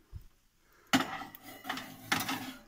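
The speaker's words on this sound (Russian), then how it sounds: "Так, ставим в духовку." A baking dish of chops under a vegetable topping is slid into the oven, giving a close clatter of cookware at the start and a second knock near the end, with faint kitchen handling in between.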